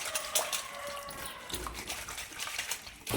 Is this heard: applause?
no